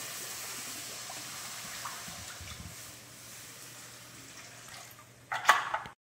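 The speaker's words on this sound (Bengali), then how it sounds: "এবার দিয়ে দিলাম জল" Water pours and splashes into a pan of cooked-down spiced masala for a fish curry, a soft, steady trickle ending in a short louder gush and clatter near the end.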